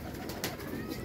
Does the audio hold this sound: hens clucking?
no